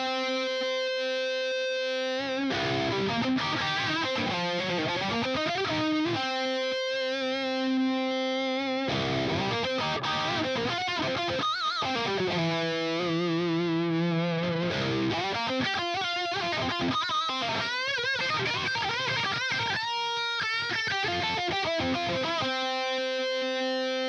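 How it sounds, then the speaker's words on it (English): An electric guitar through an Axe-Fx III with a flanger set without feedback as a chorus, giving a doubled, shimmering tone; a long played passage of sustained chords and melodic lines, loud and clear with no talking. "leave the feedback off, and it's essentially a chorus, and you can play around with the delay to get a cool doubling effect"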